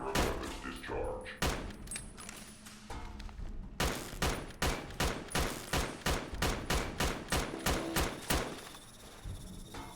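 Armor-piercing rounds fired in the Fallout: Tale of Two Wastelands game: loud, close gunshots, a few irregular shots at first, then a steady rapid series about twice per second before tapering off.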